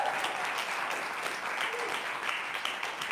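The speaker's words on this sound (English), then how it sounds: "Let's give Terrell another round of applause" Sustained applause from a church congregation, a dense, even wash of clapping that holds steady for about three seconds, loud and close, with no voices over it.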